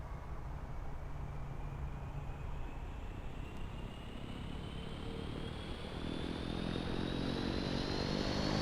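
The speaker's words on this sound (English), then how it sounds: "We're going to start engine 2." Steady whine and roar of a Bombardier Dash 8-Q400 turboprop engine spooling up in the Infinite Flight game, a continuous drone with a slowly rising tone over the full stretch, no talk.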